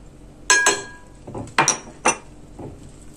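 A spoon or whisk knocks against a bowl in a few sharp clinks and taps while cookie dough is mixed with powdered sugar, close by and quiet between strokes.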